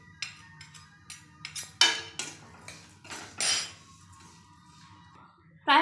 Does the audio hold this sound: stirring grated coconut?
yes